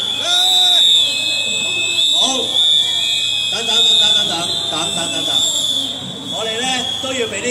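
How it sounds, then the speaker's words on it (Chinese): A protest crowd outside police headquarters blows whistles, with a steady high shrill tone running throughout and bursts of other whistles and voices on top, loud and close. "大家可唔可以有哨子嘅吹嚟聽下？"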